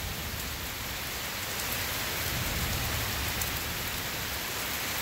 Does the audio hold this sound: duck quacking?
no